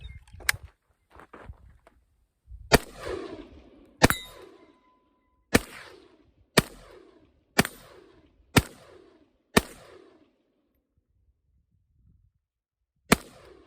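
AK rifle fired at an outdoor range: about eight sharp, loud single shots spaced irregularly a second or so apart, each followed by a short echoing decay, with quiet gaps between.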